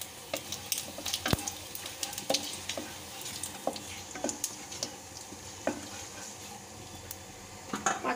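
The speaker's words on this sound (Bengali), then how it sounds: "তেলটা গরম হয়ে গেছে, এর মধ্যে দিয়ে দিচ্ছি আমি কয়েকটা শুকনো লঙ্কা আর একটু পাঁচফোড়ন" Dry red chillies and panch phoron sizzle in hot oil in a pan, a steady crackling fry with sharp spattering pops and occasional scraping clinks, close and fairly quiet.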